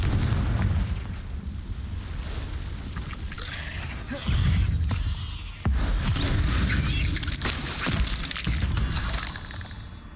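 Confringo fire spell explosions in the Hogwarts Legacy game. Loud, booming blasts with sudden onsets land amid continuous rumbling game ambience.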